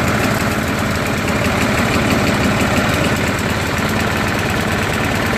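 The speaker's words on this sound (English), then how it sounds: "Dude, I just pull started it once." A Briggs & Stratton 6 HP engine on a Murray walk-behind push lawnmower runs steadily after a pull start, a loud, close, continuous rumbling chug with a slight uneven knock.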